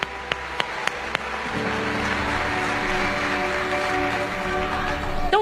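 Applause from a church congregation fills the space as a steady, dense wash of clapping, with a few sharp claps at the start and a sustained tonal hum beneath.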